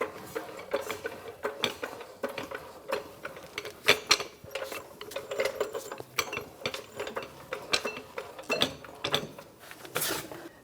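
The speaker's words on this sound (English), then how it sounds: "So now I'm just going to jack it up till I meet that lower knuckle bushing and line it up." Ratcheting clicks and metallic clanks from a floor jack raising the rear suspension of a 2013-2018 Toyota RAV4 2.5L toward the lower knuckle bushing, in uneven bursts of sharp, close taps over about ten seconds.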